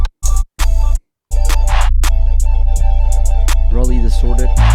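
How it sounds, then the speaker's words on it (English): A heavily distorted 808 sub bass drones loud and continuous through a hard ambient trap beat, with short chopped hits at the start and sharp percussive clicks layered on top. "the last thing I really added to the drums was the 808, which is a sub"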